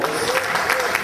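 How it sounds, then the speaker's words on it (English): An audience at a live show claps for a guest, a short burst of dense, even applause heard up close. "Give him a nice round of applause."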